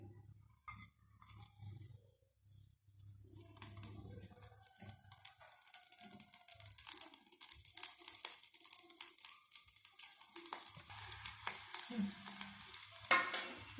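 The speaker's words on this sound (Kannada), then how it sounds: "ಈಗ ಎಣ್ಣೆ ಬಿಸಿಯಾದ ನಂತರ ಬೆಳ್ಳುಳ್ಳಿ ಹಾಕ್ತಾ ಇದ್ದೀನಿ" Garlic dropped into hot oil in a pan for buttermilk sambar sizzles and crackles steadily close by, growing busier over the clip, with clinks of a utensil against the pan and no voices.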